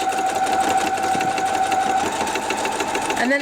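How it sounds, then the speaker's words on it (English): A sewing machine stitches a quarter-inch seam on a quilt block, giving a steady, close, fast mechanical whirr with a rapid rhythmic pulse throughout, slowing slightly near the end. "we'll head over to the sewing machine and we're going to stitch that down"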